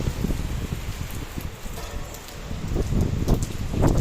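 Heavy rain pours outside a ten-storey residential building, a dense steady wash of noise with scattered louder spatters and drips, swelling toward the end.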